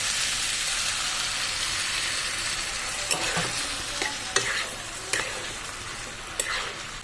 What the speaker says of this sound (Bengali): তো চলুন ভালো করে কষে নিই